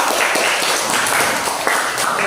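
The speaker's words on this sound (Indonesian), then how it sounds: "Tepuk tangan dulu buat kelompok 4 semua." Classroom applause for a student group of four, a short burst of continuous, fairly loud clapping from the room.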